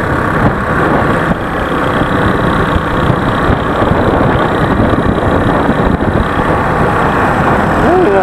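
A Keeway CR152 motorcycle engine running in gear with a clutch problem, a steady close drone with wind rush throughout, loud and continuous with no speech over it.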